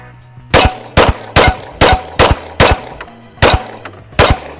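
Colt Combat Unit pistol fired in a steady string of about eight loud, sharp shots at close range, each a crisp crack with a metallic ring, spaced roughly half a second apart.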